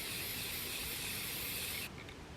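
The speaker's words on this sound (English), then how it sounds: "You don't want to spray too much in one place, because then it will run" Spray paint hisses from a can in a steady, close, continuous rush inside a small garden she shed, then cuts off abruptly, leaving quiet room tone.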